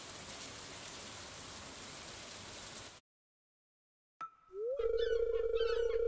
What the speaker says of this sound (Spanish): Por eso está lloviendo.